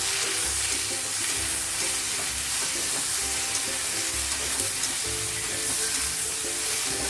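Okra and potatoes sizzling with turmeric in a pan as they are stirred, a loud continuous frying hiss with rhythmic scraping of a spoon against the pan, up close and with no talking.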